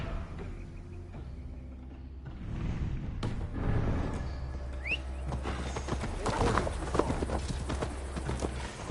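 Horse hooves clip-clop at a steady riding pace in a Viking-era video game, mid-loud and close, over a low ambient hum with a faint whinny and distant bird calls.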